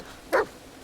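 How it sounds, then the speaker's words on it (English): A single short dog bark from a dog in the video game The Medium, a brief sharp burst standing alone over quiet background. "Dog not happy means danger afoot."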